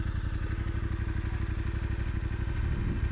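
A Voge DSX 900 motorcycle engine chugs at low revs through a slow, full-lock manoeuvre, a steady close pulsing rumble with light mechanical clatter and no talk.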